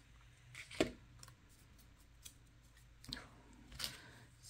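Scissors make a few quiet, widely spaced snips as paper is trimmed by hand, close but faint against a soft background hiss.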